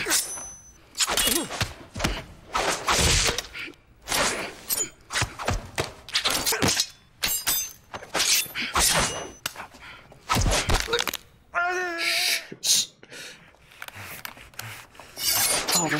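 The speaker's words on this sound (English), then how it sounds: "Oh, the sound of those blades." Knife blades clash during a hand-to-hand fight scene in the 2010 film The Man From Nowhere, with rapid metallic clangs, scrapes and rasping strikes in dense bursts and a brief high ringing tone near the end, with no voices over it.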